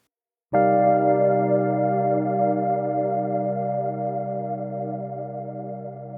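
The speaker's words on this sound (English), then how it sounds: "I'll turn off the other effects so you just hear the reverb." A sustained synthesizer chord rings out with a lush, spacious reverb, swelling in at once and slowly decaying over several seconds.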